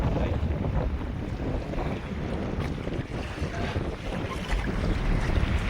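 Strong, steady wind buffets the microphone over open water on a small fishing boat, with a constant low roar and a faint wash of waves and no voices.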